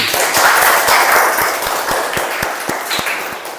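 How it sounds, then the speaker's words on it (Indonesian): A classroom of students claps for group 2 after their Pancasila presentation, loud close clapping with distinct individual hand claps over a steady wash, tapering slightly toward the end. "Beri tepuk tangan dulu"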